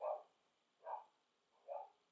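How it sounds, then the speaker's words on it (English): Dogs bark faintly in the distance, three single woofs spaced evenly less than a second apart, with quiet between them. "bloody dogs barking"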